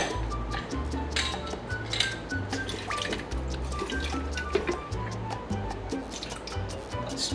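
Rum and fresh lime juice are poured for a daiquiri, a soft, quiet trickle and drip of liquid with faint glassy clinks, with no talking.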